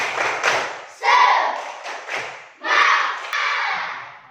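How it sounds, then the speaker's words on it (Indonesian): A classroom of pupils performing a rhythmic 'tepuk semangat' spirit clap, loud and close, in short bursts of sharp claps and thumps with a pause between phrases, voices calling out along with the pattern. "Tepuk semangat."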